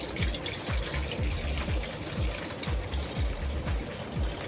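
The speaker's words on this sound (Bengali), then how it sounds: "এই জলটাকে থালার মধ্যে ঢেলে দেবো।" Warm water poured from a mug onto a plate, a continuous close splashing stream with regular gurgling pulses throughout.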